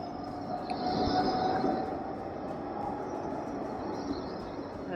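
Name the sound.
new Blackpool tram passing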